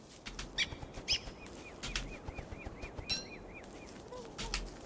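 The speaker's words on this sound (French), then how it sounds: "Mais je l'entends. Le dindon! Il est là, le dindon." In the Don't Starve video game, a turkey gobbler gives a run of quick, evenly spaced gobbling chirps amid game sound effects and soft rustling, with sharper clicks and thuds scattered throughout.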